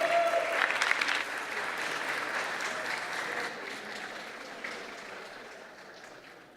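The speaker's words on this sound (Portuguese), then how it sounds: "Eu queria que vocês dessem uma salva de palmas para elas" Moderate applause from the audience in a legislative plenary chamber, honoring two young girls. The steady clapping is strongest at the start and slowly fades across several seconds, with a faint crowd murmur underneath.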